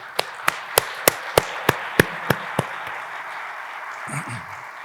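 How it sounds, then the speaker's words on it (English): Applause at a leadership awards speech, heard as about nine sharp, evenly spaced claps in a slow, steady rhythm, close and distinct, then stopping and leaving a quiet room with a faint murmur. "I'd like to please give them a special round of applause."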